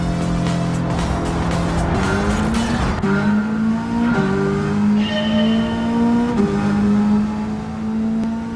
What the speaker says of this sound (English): how good is that supercharger sound